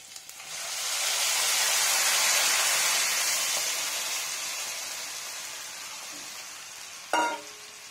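Bitter gourd and potato fry in a pan, giving a broad, steady sizzle that swells and then slowly fades, with a single sharp clack near the end.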